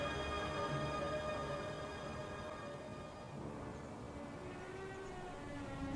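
A sustained ambulance siren with steady tonal wail and harmonics, loud and continuous over a low rumbling background.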